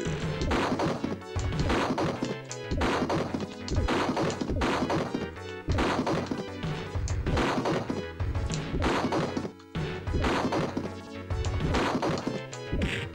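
Barrels being smashed in the barrel bonus stage of a Street Fighter 2 Turbo beta on Sega Genesis: repeated loud crashing whacks in quick succession over busy game music, sustained throughout.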